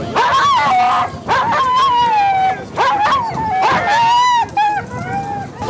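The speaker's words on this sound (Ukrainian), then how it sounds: "А колеги Урана тим часом чекають старту поруч зі своїми господарями. Найбільш нетерплячі вже готові кинутися у бій" Sled dogs waiting at the start of a race bark, yip and howl loudly and close by in overlapping drawn-out cries and whimpers, with no talk over them.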